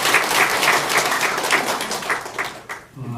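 A congregation at a Korean sermon service claps together in a warm welcome, a short burst of steady, rhythmic applause that tapers off near the end.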